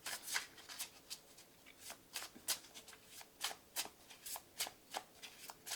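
Tarot cards being shuffled by hand, a quick run of crisp riffling snaps at a steady, fairly regular rhythm, close up and moderately quiet with no talking.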